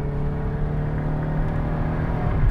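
A 1990s Ford Taurus SHO sedan at full throttle gives a steady, loud engine drone with a low rumble throughout, building slightly toward the end, with no talk over it.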